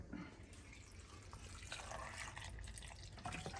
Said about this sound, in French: Ensuite, on va mettre un peu d'eau.